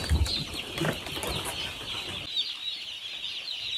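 Newly arrived chicks, the last batch of the year, give faint, high peeps against a busy rustling and scratching background that fades into quieter hiss partway through.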